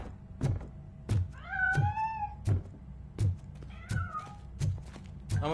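A cat meowing in Robocop Rogue City, two drawn-out, wavering meows between heavy, evenly spaced mechanical thuds that sound like footsteps, all fairly close and with no talking.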